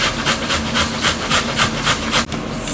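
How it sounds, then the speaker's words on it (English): Beetroot being grated by hand on the smallest holes of a grater, a rhythmic scraping of quick even strokes close by, ending with a sharp knock. "at this point you can decide how small you want to grate your beetroot"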